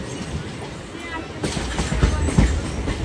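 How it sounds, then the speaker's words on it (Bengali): A MEMU passenger train on the Naihati–Berhampore line pulls into Palashi station, its rumble swelling halfway through with rhythmic wheel clatter and thumps up close, while a voice speaks over it. "এই মুহূর্তে আমাদের ট্রেন পলাশি স্টেশন ঢুকলো।"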